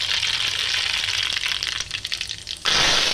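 Mustard seeds and cumin hitting hot oil for a tempering, a dense close crackling sizzle that thins out before a sudden louder hiss near the end.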